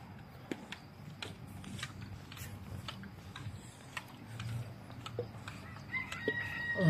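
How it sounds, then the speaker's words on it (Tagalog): A rooster crows at some distance on a quiet Sunday morning street beside a national highway, the call faint against steady outdoor ambience with scattered clicks and a few nearby noises. "Andyan si chicken. Tumitilaok na."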